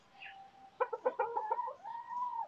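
A chicken clucks up close in a quick burst of short, rhythmic calls while pecking at the camera, then lets out a longer, drawn-out note, alone in a quiet setting.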